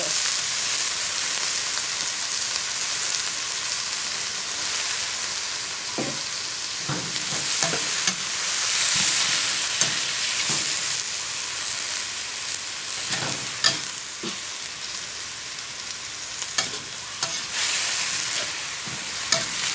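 Fresh mixed vegetables stir-fried with minced pork in a pan, a steady loud sizzle with scattered scraping and clattering as the food is tossed, no talk.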